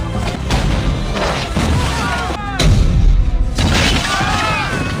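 Loud booming cannon blasts and crashing impacts as the French bombard Fort William, over a dense battle din, heavy and continuous, with faint shouting voices mixed in.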